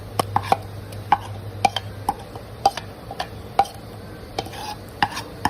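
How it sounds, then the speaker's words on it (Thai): Curry paste is stirred into a pot of boiling water for a Thai chicken-feet curry, giving sharp, irregular ladle clicks and taps against the pot over a low bubbling hum, close and fairly loud. "น้ำเราเดือดแล้วครับเราก็ใส่เครื่องแกงเราลงไปเลยครับ"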